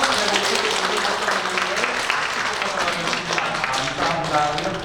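Congregation applauding during a Sunday church service, a steady, dense wash of many hands clapping throughout, fairly loud and even, with voices mixed in underneath.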